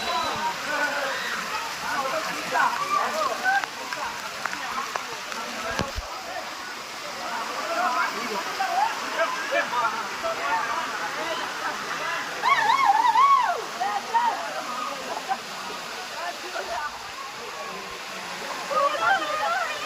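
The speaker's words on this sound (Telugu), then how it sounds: "వాటర్ ఫాల్స్ సెకండ్ ప్లేస్లోకి వెళ్తున్నాము" Palakondalu waterfall in Kadapa pours in a steady, hissing rush of falling water that fills the whole stretch, with brief louder swells and faint voices in the background.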